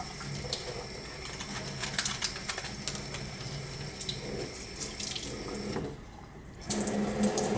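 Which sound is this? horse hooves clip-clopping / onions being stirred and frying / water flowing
water flowing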